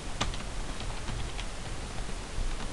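Fast typing on a computer keyboard, a steady patter of close, clicking keystrokes over a noisy background with no talking.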